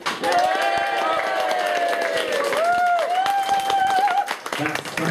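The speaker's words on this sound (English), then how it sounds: "Will you give me a massive cheer when I turn around?" A theatre audience at a comedy show cheers and applauds in a dense, sustained roar, with whoops and a few high voices rising above the clapping before it starts to thin out near the end.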